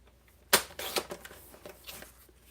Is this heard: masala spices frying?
no